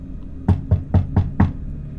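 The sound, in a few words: knocking on a door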